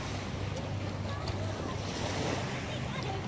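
Sea waves roll onto Green Beach in Lebanon, a small hotel beach set between mountains and the sea, as a steady, close wash of surf mixed with wind buffeting the microphone.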